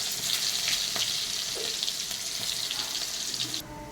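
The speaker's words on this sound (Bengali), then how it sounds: "এখন আলুটাকে সুন্দর করে ভেজে নেব।" Potatoes and chopped onion sizzling in hot oil tempered with white cumin, a steady bright crackle of frying with a few stirring knocks, close by, cutting off abruptly near the end.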